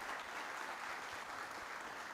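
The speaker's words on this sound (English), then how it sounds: "give them a round of applause for doing that" An audience applauds at a community listening event, a distant, even wash of clapping that continues for about two seconds with no distinct individual claps.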